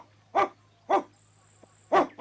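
A cartoon dog barks four sharp times in an animated series, with the barks spaced unevenly and close and clear over a quiet low hum.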